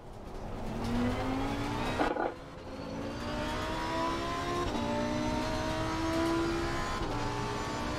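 Racing video game car revving hard with rising and falling engine pitch, a brief squeal of tyres and skidding near the two-second mark, then steady high revs throughout, loud and continuous with no talk.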